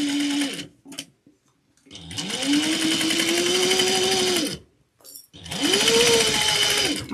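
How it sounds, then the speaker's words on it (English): Sewing machine stitching zipper tape onto cork fabric panels with a 3/8-inch seam, running in three loud sustained bursts with a short backstitch pause and brief stops between. "We're going to sew this at 3/8 of an inch,"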